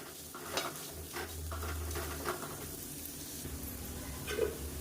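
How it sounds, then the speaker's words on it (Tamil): Sliced bitter gourd fries in oil in a pan with a soft steady sizzle, punctuated by occasional stirring scrapes and light utensil clinks, heard close with no speech. "நான் வந்து இன்னும் கொஞ்சம் நல்லா வறுக்க போகிறேன்"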